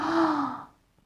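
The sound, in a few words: exaggerated deep breath in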